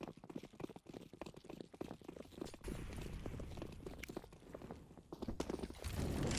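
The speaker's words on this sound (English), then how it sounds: "he hears the footsteps" Footsteps in the video game CS:GO, a quick run of soft, rhythmic steps that give way to a denser rumbling wash of game sound, mixed fairly low.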